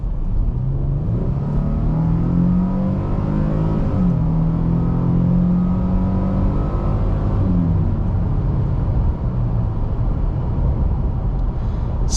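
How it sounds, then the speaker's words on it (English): A 2022 Nissan Frontier PRO-4X mid-size pickup accelerates at full throttle from about 25 mph, its engine droning loudly with a steadily rising pitch that drops briefly at gear shifts before climbing again, heard close from inside the cabin. "We'll mash the throttle and see how quick we get up to 60."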